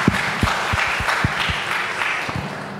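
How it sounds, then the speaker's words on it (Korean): A church congregation applauds during a Korean Sunday worship service, with rhythmic, fairly loud clapping in a regular beat filling the space. "우리 하나님께 모든 감사와 영광의 박수 올려드리겠습니다"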